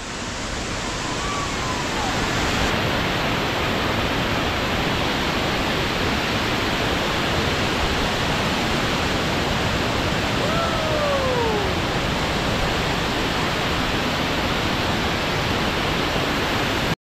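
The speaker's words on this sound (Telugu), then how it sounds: "పిట్టలదుర జలపాతం చాలా బాగుంది." Pittaladora waterfall at Tharab roars in a steady, loud, continuous rush of falling water that fills the whole clip, with faint bird calls rising briefly above it.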